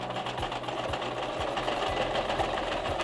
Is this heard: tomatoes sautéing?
no